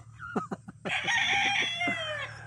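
A few short clucks lead into a loud, close Roundhead gamefowl rooster crow that rises and holds, standing alone against quiet surroundings.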